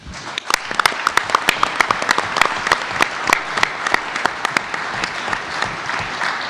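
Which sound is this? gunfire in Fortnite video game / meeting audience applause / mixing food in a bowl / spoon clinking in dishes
meeting audience applause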